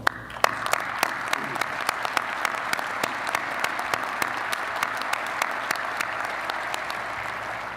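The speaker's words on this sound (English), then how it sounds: "Tom, would you please stand and let us applaud you?" A civic audience at a city's State of the City address gives sustained applause, a steady wash of clapping from a large hall with sharp individual claps standing out near the microphone, and no one speaking.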